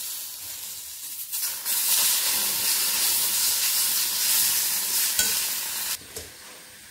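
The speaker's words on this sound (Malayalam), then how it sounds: "അപ്പോൾ നമുക്ക് ഈ പൊടിക്കകത്തോട്ട് തക്കാളിക്ക ഇട്ട് കൊടുക്കാം." Tomatoes hit a hot pan of spice powder for kadai paneer and fry with a loud, close, steady sizzle and hiss that swells for several seconds, with stirring scrapes, then drops off.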